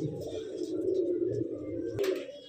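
A rare-bloodline pigeon, a Kale Dabbe Makhiyala female bird, cooing in a low, steady throaty murmur, close and continuous.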